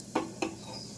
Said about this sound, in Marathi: पुन्हा एकदा हलवून घेऊया सगळं